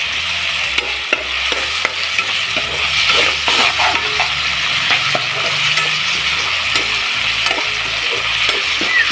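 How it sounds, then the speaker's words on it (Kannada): Green chilli sauce being stirred into sizzling paneer manchurian in a pan, with a continuous frying hiss and repeated scraping, clacking strokes of the spoon against the pan, close and loud. "ಇದಿಷ್ಟನ್ನು ಹಾಕಿ ಕ್ಲೀನಾಗಿ ಮಿಕ್ಸ್ ಮಾಡ್ಕೊಳ್ಳಿ."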